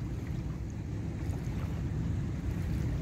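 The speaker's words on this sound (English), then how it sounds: "I see people coming with another boat there." A low, steady rumble of a boat on the Paraguay River at Asunción, with wind buffeting and the wash of moving water.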